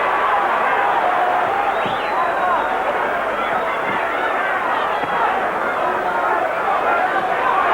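Boxing arena crowd during a heavyweight title fight, a loud, continuous roar and murmur of thousands of spectators reacting to a thrown right hand, steady and dense throughout.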